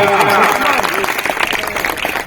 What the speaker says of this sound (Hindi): आप तमाम लोग तालियों के साथ इसका स्वागत कीजिएगा।